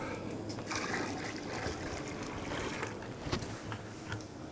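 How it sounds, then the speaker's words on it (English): Maple sap boiling for homemade syrup makes a steady bubbling, hissing wash with small pops and gurgles, close and moderately quiet, without speech. "we've got a boil going there."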